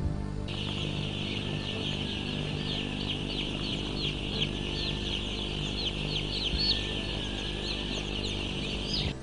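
Chickens cluck and chirp steadily in a noisy farm setting, with a constant low hum underneath and no voices.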